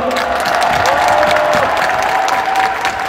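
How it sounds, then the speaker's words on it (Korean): Warm applause for party officials at a party convention, loud sustained clapping from a large crowd with a faint voice tone running underneath. "여러 당직자분들께도 뜨거운 격려의 박수를 부탁드립니다"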